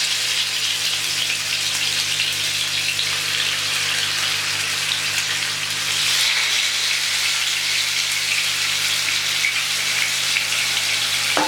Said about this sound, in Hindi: ऑयल गर्म हो चुका है, तो अब हम इसके ऊपर फ़िश फ्राई कर लेते हैं।